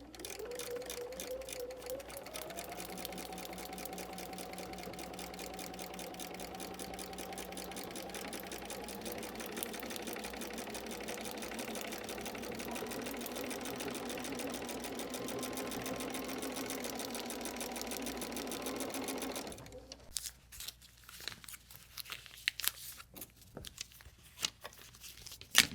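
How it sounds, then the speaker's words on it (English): Sewing machine stitching a foundation paper pieced quilt seam, a steady close rapid whir that runs for about twenty seconds, then stops and leaves faint intermittent clicks. "let's go sew this together right off the edge and onto the line."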